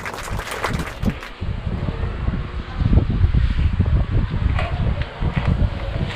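A new electric fan whirs steadily close by, a breathy rushing hum with some rustle and small bumps, no talking.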